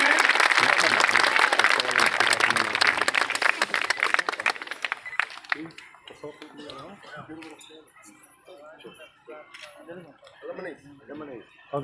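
A crowd applauds loudly for about five seconds, then the clapping thins out as a person starts talking over an amplified system.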